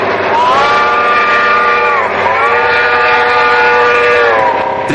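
A loud, sustained train whistle sound effect plays within a Brazilian funk track, with layered tones that hold, dip briefly and return over a constant backing.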